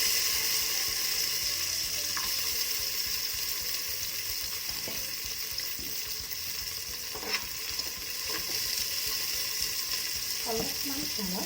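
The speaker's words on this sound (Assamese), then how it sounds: "এই ঘিখিনিত মই কাজু কিচমিচখিনি প্ৰথমতে ফ্ৰাই কৰি দিম।" Cashews and raisins fry in ghee with a continuous soft sizzle and occasional stirring scrapes, fairly close and even throughout.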